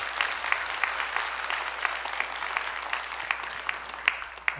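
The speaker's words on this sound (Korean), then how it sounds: "여러분 크게 박수 한번 해주셔요." A church congregation claps together in steady, dense applause, with a few sharper individual claps standing out near the end, fairly close and loud.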